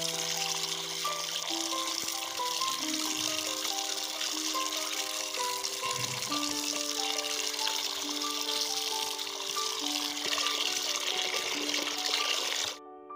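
Buffalo ribs being rinsed in water, a steady run of pouring and splashing liquid lasting throughout, with clinking tones of a metal vessel mixed in, close and continuous.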